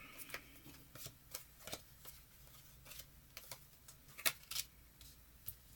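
Quiet, close tarot card shuffling: soft riffling flicks and taps in irregular bursts over a faint steady background hiss.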